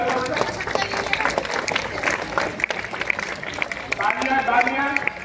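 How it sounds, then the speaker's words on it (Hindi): Students and guests clap at a school science exhibition, scattered applause running beneath prominent voices talking nearby. "तालियां बजे"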